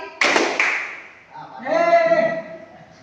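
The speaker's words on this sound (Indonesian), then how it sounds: "Tepuk tangan 1 kali." Hands clap together once, a sharp close slap followed by a second softer clap, then a person speaks, in a teacher's classroom exercise.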